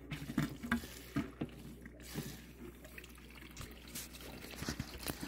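Water running through a siphon pump into a 6-gallon corner aquarium, a soft steady trickle and patter with occasional louder splashes, close and continuous with no talking.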